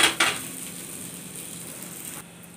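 A spatula scrapes and clinks against a pan as an adai dosa made with bottle gourd is flipped, two quick metallic knocks up front giving way to a steady, soft sizzle of oil that cuts off abruptly near the end.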